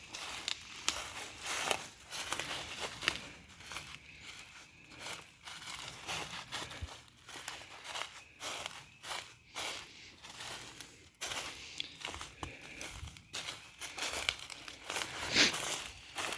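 Footsteps crunch across the ground of a wooded property, a steady broadband patter of crackling leaves and brush underfoot, close and continuous with no voices.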